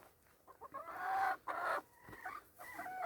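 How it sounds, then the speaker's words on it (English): Chickens clucking in a backyard garden coop, several short squawking calls in an uneven run at close range, alone with no talk. "There's my chickens."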